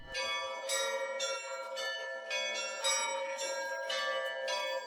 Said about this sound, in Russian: откуда доносился звон колоколов